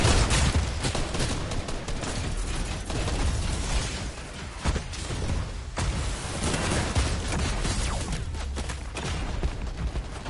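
Dense, continuous video game gunfire with rapid bursts and booming explosions from a battle involving a mech, loud and sustained throughout with no talking.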